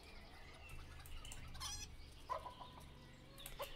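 Chickens clucking in the village-building game Ostriv, faint farmyard clucks and short calls over a low background hum.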